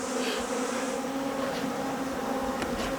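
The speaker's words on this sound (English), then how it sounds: "This is definitely when the bees get angry." Agitated honey bees buzz loudly and steadily around a manuka honey harvest as they are blown out of their honey boxes, a dense continuous drone with a few individual bees whining close by.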